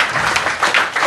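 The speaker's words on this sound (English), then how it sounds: "So I think we should give them a round of applause." Audience applause fills a room at a Bulldogs men's health community event: dense, steady clapping from many hands, close and loud for about a second with no pauses.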